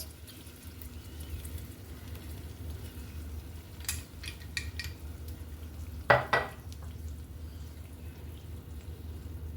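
Khabsa spice mix is stirred into chicken in a pan with the stove off but still hot: a spoon scrapes and clinks against the pan in scattered strokes, with a louder scrape midway over a faint steady background hiss.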